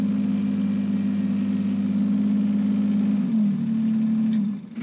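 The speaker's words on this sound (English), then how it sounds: "we're going to slowly back up the tractor without ripping off the hydraulic hoses." A Kubota BX23S compact tractor with front loader runs at a low, steady idle hum while reversing slowly, the engine note shifting slightly partway through before cutting off abruptly at the end.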